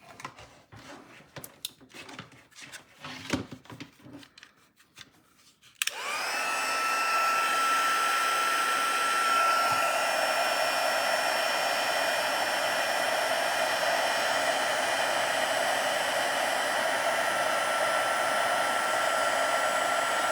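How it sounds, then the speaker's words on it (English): An embossing heat tool used in a paper-crafting card project switches on after a few seconds of soft handling clicks and then blows hot air as a loud, steady whir that holds continuously to the end. "and then we're gonna bring in the heat tool."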